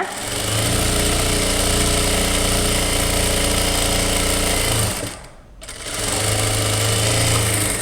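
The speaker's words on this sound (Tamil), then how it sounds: "ஒரு கால் இன்ச்சில் ஸ்ட்ரைட்டாக தையல் கொண்டுட்டு வாங்க" A sewing machine stitches lining cloth for a puff sleeve in a loud, close, continuous whirring run. It slows to a short pause partway through, then picks up again at full speed.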